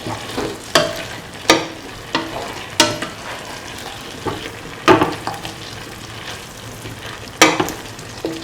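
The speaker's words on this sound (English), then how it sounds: "Mix all ingredients thoroughly for 1 to 2 minutes" Beef, veal and tomato pieces being stirred in a frying pan, with a steady sizzle beneath sharp utensil scrapes and clanks that recur every second or so.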